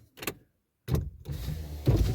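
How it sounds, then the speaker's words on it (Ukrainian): A car's power window motor whirs as the glass is lowered, a short burst followed by a longer, steadier hum, fairly close and recorded from inside a parked car. "Зараз я опущу вікно"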